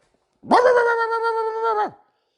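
A voice imitating a dog's excited whimper, delivered as a single sustained whining yelp of about one and a half seconds that rises and then falls off, loud and close.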